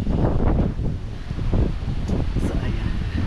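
Strong storm wind in San Diego buffets the microphone in loud, gusty roars that swell and ease over a few seconds.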